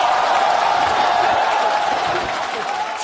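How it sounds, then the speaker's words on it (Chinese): A theatre audience breaks into warm applause for a comic sketch, steady dense clapping from a crowd throughout, fairly loud and sustained. "热烈鼓掌"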